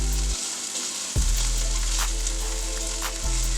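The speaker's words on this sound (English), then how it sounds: "You can hear it kind of sizzling." Tofu scramble sizzles and fries in a hot pan with a steady, close hiss, broken by brief scraping and stirring.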